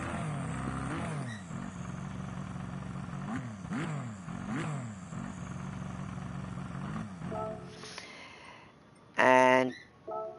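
Meaner-sounding car engine in Gran Turismo 7 revving hard, rising and falling in repeated sweeps for several seconds, then cutting out before a few short bright electronic tones near the end.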